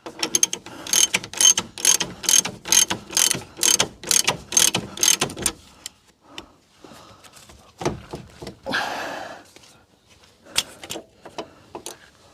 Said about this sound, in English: I'm just tightening the bolts up